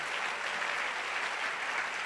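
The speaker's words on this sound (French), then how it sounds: "Acclamons la parole." A church congregation breaks into sustained applause, an even, dense wash of clapping from many hands lasting about two seconds with no voices over it.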